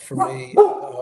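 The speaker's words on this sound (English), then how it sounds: "That's the dog." A dog barks twice close by, two short sharp woofs about half a second apart, mixed in with someone speaking indoors.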